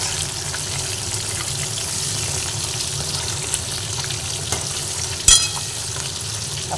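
Fish frying in hot oil for a fish curry with cauliflower, a steady close sizzle running throughout, with a brief sharp clink of utensil near the end and no talk.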